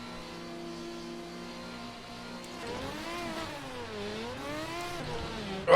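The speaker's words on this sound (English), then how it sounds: "Let's build the revs for the start." Ferrari 550 GT1 engine revved on the grid before a race start in GTR2, idling steadily and then rising and falling through several loud, close revs.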